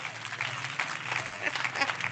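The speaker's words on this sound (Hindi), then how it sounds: "आइए खुदा के लिए जोरदार ताली बजाएंगे" A church congregation claps loudly together during worship, a dense, steady wash of applause lasting the whole moment without pause.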